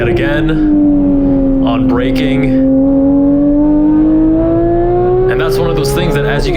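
On track, a 2018 Porsche 911 GT3 (991.2) engine howls loud and close, its pitch dipping under braking and then climbing steadily again, with bursty rasps at the start and finish; someone speaks over the engine.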